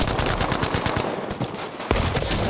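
Rapid automatic gunfire in the Battlefield V video game, with loud, closely spaced shots in quick bursts and a brief lull before firing resumes.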